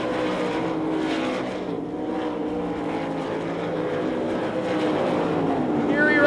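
Sprint cars roaring around the dirt oval at the 1997 Knoxville Nationals, a continuous loud engine drone with shifting pitch as cars pass, with an announcer talking over the racing.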